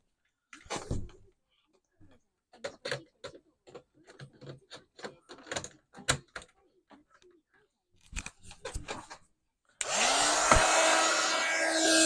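A heat gun blasts a handmade shabby chic Valentine card to dry it. Scattered light clicks and handling noises come first, then a loud, steady, close-up roar starts near the end and keeps going.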